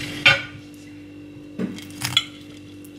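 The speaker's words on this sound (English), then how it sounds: "I will cut through now" A knife cuts through crispy fried Maultaschen on a plate with barbecue and chili sauce: a few sharp, close crunches and cutlery clinks against the plate, separated by short quiet gaps.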